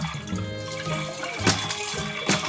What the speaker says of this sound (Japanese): 水とお湯が出るやつ。